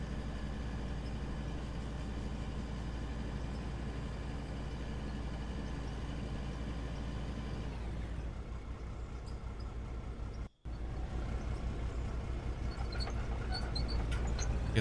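A heavy mining rock truck engine in a video game rumbles steadily, dropping briefly in pitch and cutting out for a moment before revving back up, continuous low drone.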